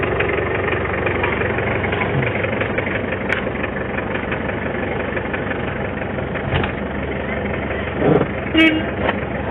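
A loud, steady van engine rumble drones throughout, close up and continuous, with a brief knock and some faint chatter near the end.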